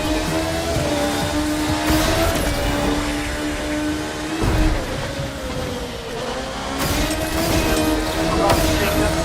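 Race cars roar past in The Crew 2 video game, engines whining and tires squealing in repeated sweeping passes, loud and continuous with faint talk underneath.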